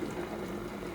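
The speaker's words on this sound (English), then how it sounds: "So we've got boiling water inside, and that's not even warm." Water bubbling at a rolling boil inside an electric kettle, a steady close rushing simmer with no talk over it.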